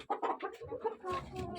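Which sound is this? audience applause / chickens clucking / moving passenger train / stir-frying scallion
chickens clucking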